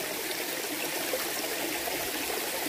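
Steady rushing water from a waterfall in Mafra, Santa Catarina, a constant broadband wash at moderate distance with no voices over it.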